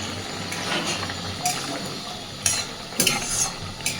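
Food with ghee for a banana-flower kofta curry is stirred and mixed in a frying pan, with a soft continuous sizzle and several sharp scrapes and clacks of a utensil against the pan.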